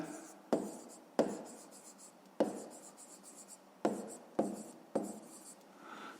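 A pen writing a maths solution by hand on paper, with soft scratchy strokes broken into several short bursts by sharp taps as the pen touches down, very close and quiet.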